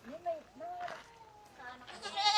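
Goats, including a black pregnant doe and a native buck, bleat in short wavering calls near at hand while people talk and laugh around them.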